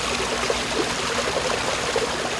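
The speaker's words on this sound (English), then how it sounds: "Right now you can see this little trickle of water coming down the sidewalk into the street, then flowing down, continuing." Water from a burst water main trickles down a sidewalk into the street, a steady close rushing flow with no voices over it.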